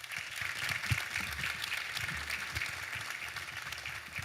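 Audience applause at a governor's economic development announcement, steady crowd clapping filling the room with a few low thumps beneath, sustained throughout without speech.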